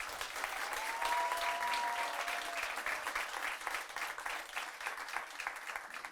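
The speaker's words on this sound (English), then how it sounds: "So let's give a round of applause for them." An audience applauds performers and musicians at a concert of Muslim-world music, a dense continuous patter of many hands with a brief voice near the start.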